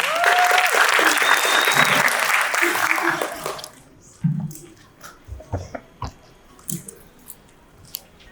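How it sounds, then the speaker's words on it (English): Applause from the audience at a music industry conference in the Durban Playhouse, a dense, steady clapping that lasts about three and a half seconds and then gives way to scattered knocks and handling noises. "Please give him a round of applause"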